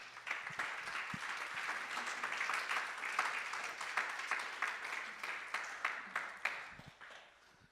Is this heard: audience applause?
yes